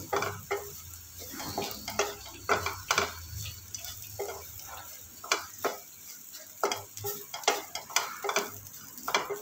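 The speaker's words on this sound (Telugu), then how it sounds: "కొంచెం మీడియం ఫ్లేమ్లో పెట్టి ఫ్రై చేసుకోండి." Bitter gourd frying in a pan over medium flame, a continuous sizzle broken by repeated sharp scrapes and clacks of a spoon stirring against the pan.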